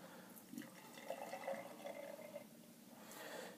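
Stone Exhalted IPA is poured into a glass, a faint steady splashing and fizzing of liquid running for a few seconds with no talk.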